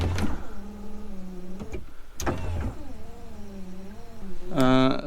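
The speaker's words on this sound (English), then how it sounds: "Sunroof's making noise. It acts like it wants to open." The sunroof motor on a Subaru SVX car whirs and strains as if trying to open, a wavering mechanical hum in several short bursts with a sharp click between them.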